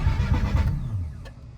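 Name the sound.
Mazda RX-7 engine cranking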